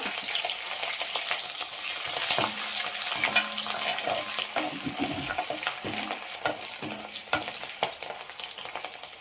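Sliced green chillies frying in hot oil for Brahmin-style avalakki, a dense steady sizzle with clinks and stirring scrapes of a spoon in the pan throughout, close and fairly loud, with no talk.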